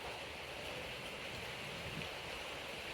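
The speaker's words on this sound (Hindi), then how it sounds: "देखो बारिश कैसा पड़ रहा" Heavy rain pours steadily outside a house in Bangalore, a dense continuous hiss of falling water with no breaks, heard faintly from indoors.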